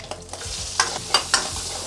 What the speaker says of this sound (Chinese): 放一点点油，炒出红油来